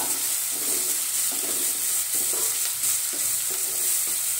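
Finely chopped onions sautéing in a pan, a constant bright sizzle with repeated soft stirring scrapes at an even pace, close and loud with no speech.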